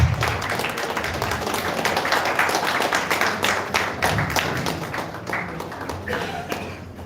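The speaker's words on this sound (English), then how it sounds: "give him a big round of applause." A room full of people claps in a sustained burst of applause, dense and lively at first, then gradually thinning and fading.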